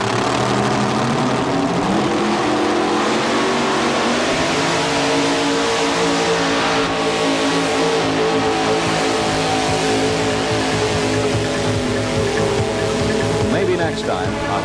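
Chrysler Hemi engine powering a pulling vehicle at a 1987 truck and tractor pull in Louisville, revving loud and steady with a droning roar throughout, while an announcer talks over it.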